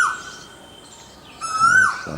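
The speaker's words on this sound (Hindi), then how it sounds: "कोई कोयल दूर पर बोल रही" Asian koel calling in a garden in Raebareli during hot May weather, a single rising whistled call that stands out against a faint chorus of other birds.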